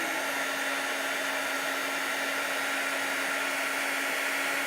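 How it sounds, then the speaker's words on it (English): A heat embossing tool blows hot air in a steady, loud, continuous whoosh with a constant motor whine, running alone without pause for the whole stretch. "I'm just going to emboss this."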